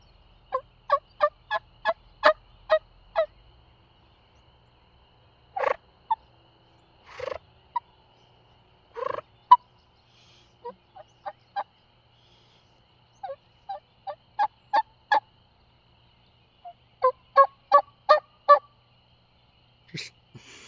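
Imitated wild turkey hen yelps and clucks made with a call to attract spring gobblers, played in short rhythmic runs of sharp, moderately loud notes with pauses between series, alone and close.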